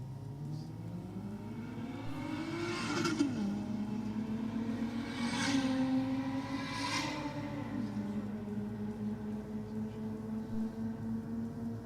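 A Crusader race car runs against a Lexus at a drag race, engines rising through several gear-shift sweeps, moderately distant over a steady background rumble.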